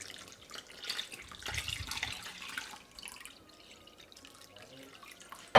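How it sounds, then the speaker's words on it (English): Roughly 900 ml of water pours into a bowl of rava dosa batter mix, a soft splashing stream that swells midway and then tapers off into quieter trickling. "So next I add in 900 ml of water"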